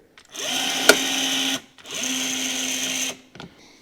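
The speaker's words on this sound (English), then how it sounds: "If I put my rivet gun on here, push it in, hopefully it will go. Hold it tight, pull the trigger." A rivet gun sets a rivet on a BMW X5 under repair: two separate mechanical whirring bursts, each over a second long, with a short click between them, close and fairly loud.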